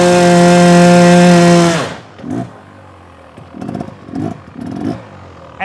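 A motorcycle engine revved to high RPM during an obstacle riding lesson, held as a loud steady whine for nearly two seconds before cutting off, followed by a few short, quieter blips of the throttle.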